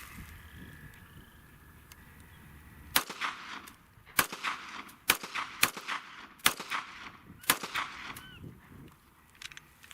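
A Smith & Wesson M&P9 M2.0 9mm pistol firing about seven sharp, loud shots at irregular intervals after a quiet outdoor lead-in, each crack trailing into a short echo.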